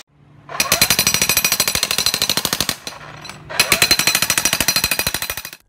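Workers running a jackhammer, loud and close, in two long bursts of rapid pounding separated by a brief pause.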